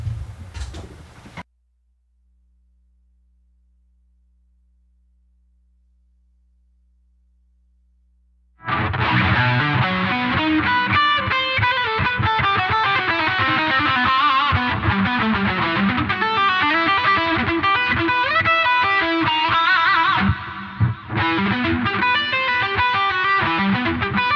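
After a brief sound and several seconds of silence, an electric guitar through a Digitech pedal and Boss GT-1000 plays continuously, heavily processed, distorted, dense and loud, with no talking.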